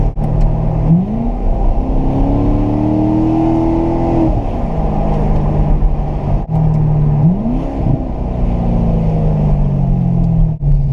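A 2014 Chevrolet Corvette Stingray accelerates hard with its exhaust open, its loud engine note climbing through two rising revs and a gear change before pulling up again, with no talking.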